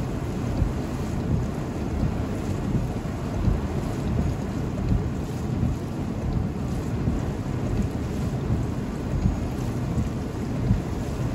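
Water rushes from an open fire hydrant onto a city street in Brooklyn, with a steady, dense roar close by that holds unbroken throughout.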